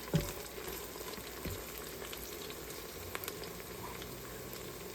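Vegetable biryani ingredients sauté in an Instant Pot, making a quiet, steady sizzle with a few soft bumps, and no one talks.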